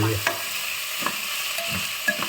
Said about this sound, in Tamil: வதங்கட்டும் தக்காளி வதங்கட்டும்